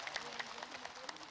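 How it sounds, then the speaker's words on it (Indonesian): Applause from a small audience, a steady patter of many hands clapping at a moderate distance, fairly quiet and continuous through the brief moment. "tepuk tangan dulu"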